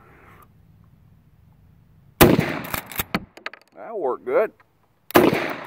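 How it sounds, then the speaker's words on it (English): A Savage 77 pump shotgun fitted with a Poly Choke compensator fires two loud, sharp blasts outdoors several seconds apart, with the rattling clack of the pump action cycling between them and a brief spoken remark. "we'll shoot this thing once or twice and see if we can get it to hang up"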